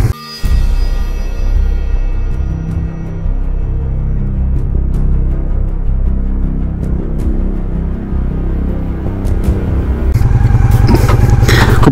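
A Honda Shadow 750 ACE motorcycle being ridden on a warm day, its engine droning steadily and close throughout, with a brief rise in revs near the end.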